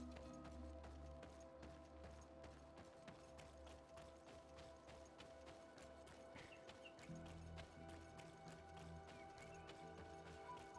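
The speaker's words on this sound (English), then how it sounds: "Click clop." Horse hooves clip-clopping in a video game, a steady rhythmic patter of hoofbeats over a low music-like hum, fairly quiet, with no talking.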